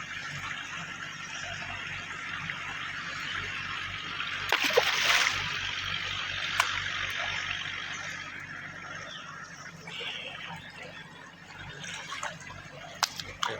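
Water of the Gad river at Kumbharkhani runs and splashes in a soft continuous wash, with a brief louder splash and a few faint drips, heard from nearby.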